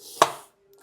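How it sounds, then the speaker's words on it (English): A single sharp knife stroke slices through mushrooms on a chopping board in a home kitchen, one crisp thunk near the mic with a short fading tail, then quiet. "Mushrooms, just gonna slice them."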